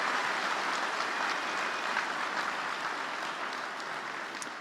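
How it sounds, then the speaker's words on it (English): Audience applause fills a large hall at CPAC 2018, a conservative political conference: a steady, dense wash of clapping at moderate level that holds evenly throughout without a break. "Would you give Karen one more round of applause for all that she does for the cause and the country?"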